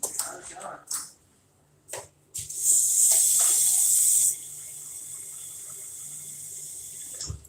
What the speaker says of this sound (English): I gotta wash it off first.